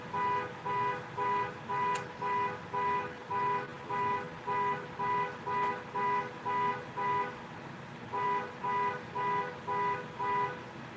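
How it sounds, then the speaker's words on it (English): A car alarm blares on a Bronx street, cycling through a steady repeating pattern of loud electronic tone bursts with short gaps. It is fairly close and runs continuously with no talk over it. "It's not a day in the Bronx without someone setting off a car alarm."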